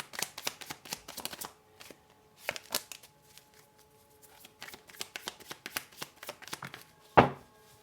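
Playing cards shuffled by hand in quick riffling bursts and rustles, close and fairly soft, ending with a louder clatter as a pile of cards spills out.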